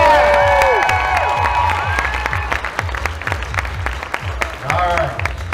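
A crowd at a stage show claps and cheers for a professional performer, lively applause with whoops over music and a steady beat, fading slightly and then swelling again.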